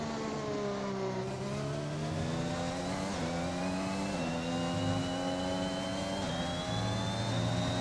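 A Honda-powered Formula 1 car in the racing game F1 2021 screams along a straight at high revs. The whine climbs steadily in pitch, with a couple of brief dips at gear shifts, and is heard alone.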